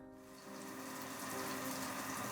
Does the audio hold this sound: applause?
no